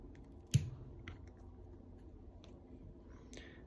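Scissors snip away excess bucktail on a saltwater flat-wing fly at the tying bench: one sharp close cut, followed by a few faint small clicks in a quiet room.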